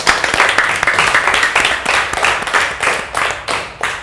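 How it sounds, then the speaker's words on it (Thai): A classroom of students applauds two student groups, with dense, lively clapping that swells and fades in quick rhythmic waves, loud and close. "ขอปรบมือให้ทั้งสองกลุ่มเลย"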